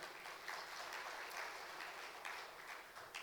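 Indoor audience at a business event breaking into steady applause, a dense, even patter of many hands clapping at moderate distance for a few seconds.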